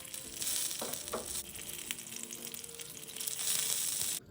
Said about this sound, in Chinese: 慢火煎至饺子底部微微焦，